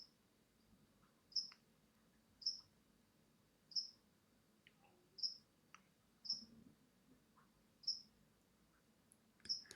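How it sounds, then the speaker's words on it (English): Crickets indoors give single sharp, high chirps at a regular pace of roughly one every second or so, faint against a quiet room with a low background hum. "there's a couple of crickets in the room at the moment"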